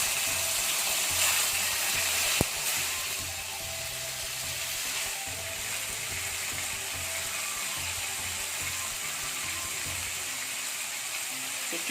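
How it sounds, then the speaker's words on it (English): Chicken pieces fry in hot oil in a wok over high heat, giving a steady, fairly faint sizzle and crackle with a brief click partway through and no talking. "So chicken is frying nicely."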